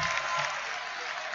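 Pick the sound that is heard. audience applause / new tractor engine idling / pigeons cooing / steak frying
audience applause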